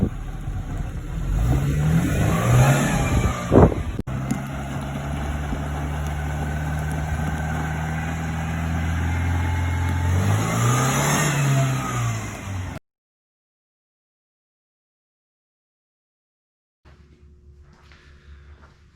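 A car engine revs and accelerates as the car is driven around to check tire clearance, with rising and falling engine pitch for about thirteen seconds, then silence, then a low idle.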